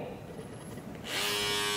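A Bevel cordless hair trimmer switches on partway through, its steady electric buzz with a clear tonal hum rising and holding loud and close after a quieter stretch of room noise.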